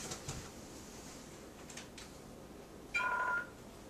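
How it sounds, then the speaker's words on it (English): A single short telephone ring sounds once in a quiet room, faint and brief, against a low background hiss. "I got to answer the phone."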